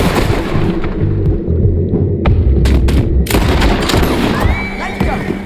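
Gunfire in the video game Red Dead Redemption 2, several loud sharp shots cracking in an uneven cluster over rumbling game ambience, with a voice calling out between the blasts.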